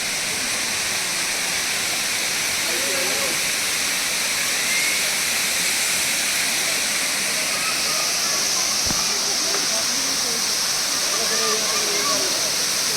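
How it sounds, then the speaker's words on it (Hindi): A waterfall at the Chandigarh Rock Garden sends up a steady, loud hiss of falling water, with a faint voice now and then underneath. "देखो अच्छा सा वाटरफॉल है इधर"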